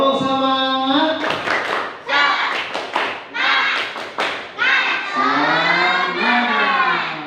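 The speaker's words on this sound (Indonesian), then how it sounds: "Tepuk semangat." A classroom of students performs a rhythmic spirit clap, sharp claps in quick patterned bursts mixed with loud chanting voices.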